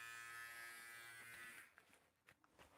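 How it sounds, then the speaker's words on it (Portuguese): An electric shaver buzzes steadily with a bright, dense hum, fairly faint, then cuts out and leaves soft handling noises. "liguei meu barbeador sem querer"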